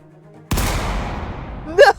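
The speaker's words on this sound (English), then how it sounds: "The sound of a gunshot echoed in our ears." A gunshot sound effect: one loud, abrupt blast with a long decaying echo, after a quiet lead-in, then brief vocal sounds near the end.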